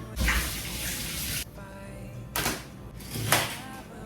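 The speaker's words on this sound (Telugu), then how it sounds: "So salary, let's wash it." Celery stalks are rinsed under a running kitchen tap, a broad splashing hiss that cuts off and resumes in short bursts, close by.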